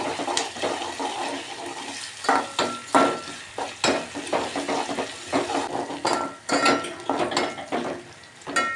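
Colocasia (taro) pieces frying in hot oil until golden, with loud irregular scraping and stirring bursts in the pan over a steady bubbling sizzle, close up and with no talking.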